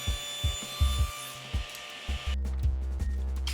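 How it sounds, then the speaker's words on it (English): Wooden cabinet legs are cut at a 5-degree angle, rhythmic sawing strokes at first, then a steady louder grinding rasp of the cut continuing to the end, close and without talk. "I cut a 5-degree angle on the top and bottom of each leg in a parallel fashion"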